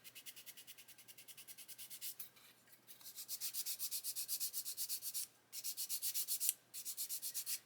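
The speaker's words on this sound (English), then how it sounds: "it shows me where I have and haven't sanded." Sandpaper rubbing in steady rapid back-and-forth strokes on a plastic part from a 1/24 scale Airfix Spitfire Mk.IXc model kit, close and fairly loud, pausing briefly a few times between bursts.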